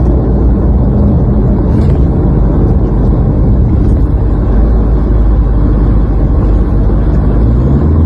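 Motor vehicles driving on a road, a loud continuous engine and road rumble close by with steady low droning and no pauses.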